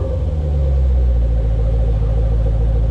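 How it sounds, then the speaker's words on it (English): A 2010-2015 Camaro SS V8 rumbles at a steady, deep idle, loud and close, with a low throaty growl from a Flowmaster axle-back exhaust with secondary cat delete. "I have a Flowmaster Axleback exhaust system with a secondary cat delete, and it kind of gives me this exhaust note"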